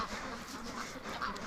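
Free-range ducks quacking outdoors, a cluster of overlapping nasal quacks at moderate distance, fairly constant over the short stretch with no talking.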